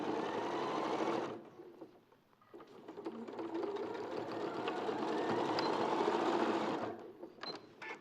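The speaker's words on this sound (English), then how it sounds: "I'm sewing around here." A sewing machine stitches around the side body of a fabric piece, its motor whirring steadily and loudly, dropping briefly to a lull before running on continuously and then easing off near the end.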